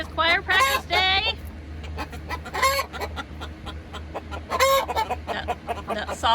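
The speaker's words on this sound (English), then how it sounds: "The honking that sounds like a goose, that's the Brahmas" Brahma chickens honking like geese among a mixed backyard flock, loud repeated calls in several bursts over steady clucking and low background murmur.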